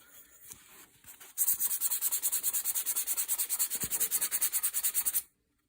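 Sandpaper works along the edge of a wooden gunstock to feather it. After a quieter start, close, rapid back-and-forth strokes set in, loud, even and rhythmic, then stop abruptly.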